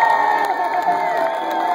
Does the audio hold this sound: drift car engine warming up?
no